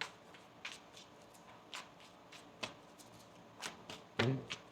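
Tarot cards are shuffled by hand in a quiet room, giving a handful of soft, scattered papery flicks and slaps spaced about a second apart, ending in a slightly louder, fuller shuffle.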